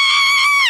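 A person lets out a sustained, shrill demonic scream on a Brazilian TV comedy set, holding one loud, piercing tone that wavers slightly near the end.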